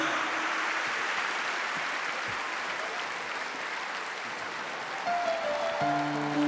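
A large audience at the Zlatna Bubamara 2023 awards show applauds a band with a long, dense wash of clapping that stays steady, and faint music tones creep in near the end.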